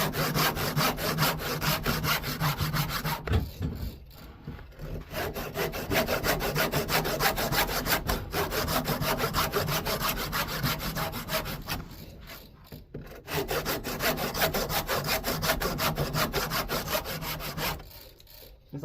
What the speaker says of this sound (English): Start sawing away my second groove here.